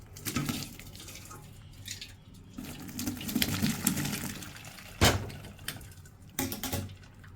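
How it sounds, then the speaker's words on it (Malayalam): Boiled mushrooms and their water are poured into a strainer, giving irregular splashing and gushing bursts of water with short pauses between them and a sharp clatter midway. "ഈ മഷ്റൂം തിളച്ചത് നമുക്ക് ഒരു നെറ്റിലോട്ട് ഒഴിക്കാം"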